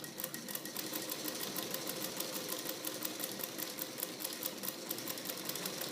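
A sewing machine stitches fabric in a steady, rapid mechanical whir with fine ticking, running continuously at an even, moderate level throughout.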